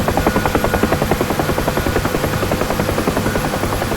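A UH-1 Huey helicopter taking off in the DCS flight game, its rotor producing a loud, steady, rapid blade thump that fills the whole stretch without any talk.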